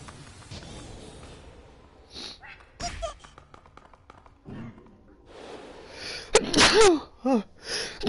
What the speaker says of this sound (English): headache and sneezing all week